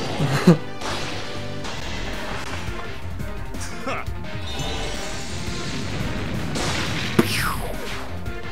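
A Glowing Flame special attack in Fire Emblem Heroes bursts with a loud smash-and-crash impact near the start, then a second sharp hit later, over steady game music with a voice talking throughout.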